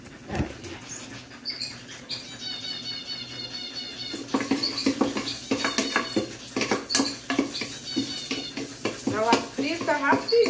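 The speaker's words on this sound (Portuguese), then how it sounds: "Olha o barulhinho, é rapidinho, ela vai fritando, ela frita." Large garlic cloves fry in a hot pan with a busy, close crackle and sizzle that grows louder partway through, joined by light scraping and clinking of utensils.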